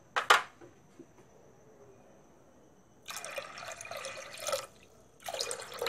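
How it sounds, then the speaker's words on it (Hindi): Water from a glass splashes into a sambar pot in two short bursts, a sharp splash near the start and a longer gushing pour later, quiet and close with no talk. "चलिए 1 ग्लास और पानी डाल देते हैं।"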